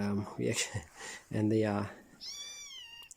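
Four-week-old kittens give several short, high meows at close range, with one longer meow, and a person talks softly between them.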